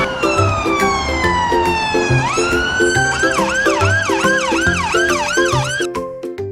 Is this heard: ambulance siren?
yes